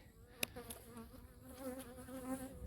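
Bees at a top feeder on a nuc hive hum steadily close by, a wavering, droning buzz that rises and falls, with one sharp tap near the start.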